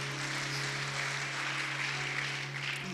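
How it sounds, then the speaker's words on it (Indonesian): A church congregation applauds during an Indonesian sermon, a steady wash of clapping that stays even and unbroken throughout, with a low electrical hum running underneath. "Sekali lagi tepuk tangan yang paling meriah bagi Tuhan Yesus."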